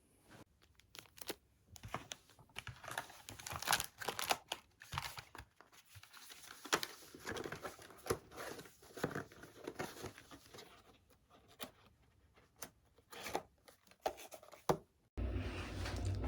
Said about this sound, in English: I now need to put the whole tube in this little plastic envelope and then seal the box.